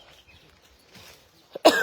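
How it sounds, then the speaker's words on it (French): A single sharp cough breaks out near the end after a stretch of quiet, faint outdoor ambience on a plot of land in Kribi. "Je tousse moins que hier."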